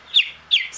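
A baby chick, likely an Andalusian, chirps while being held and handled for wing sexing: two sharp, high peeping calls about a third of a second apart, close and fairly loud, with a third starting at the end and no talking.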